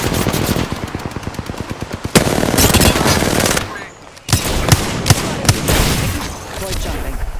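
Apex Legends gunfire, loud and sustained, with rapid automatic bursts and single heavy shots. It breaks briefly into a lull, then resumes with sharp reports, and voice callouts are mixed in.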